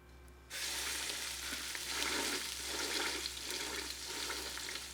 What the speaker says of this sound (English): Now we're just going to wait for the pot to finish heating up, and then I'm going to get these searing